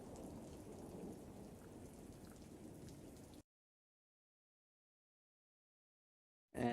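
Steady rain with a deep thunder rumble, dense and close, lasting a few seconds before cutting to silence, then a brief loud burst returns at the very end.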